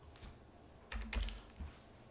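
Keys tapped on a computer keyboard while working in a LibreOffice document on Linux Mint, an irregular run of soft clicks with a denser, louder flurry in the middle and a few isolated taps, close and alone.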